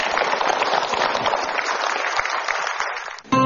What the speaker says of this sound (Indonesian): Tepuk tangan yang paling meriah untuk pilihan Anda